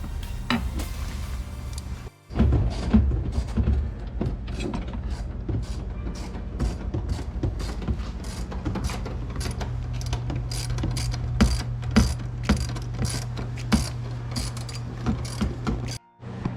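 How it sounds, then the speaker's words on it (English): Ratchet wrench clicking steadily while backing out hex-head bolts holding a third-row seat in a Lexus GX460, a close, continuous rapid ratcheting with brief pauses between strokes. "now we're going to take out down here those two hex heads that you see down there"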